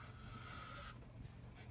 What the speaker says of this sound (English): Just spray that in my mouth.